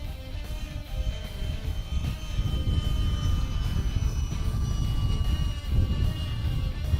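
A steady, high whining engine drone from a radio-controlled Freewing Seagull 1400mm model airplane in flight, continuous and fairly loud with a slight swell near the end.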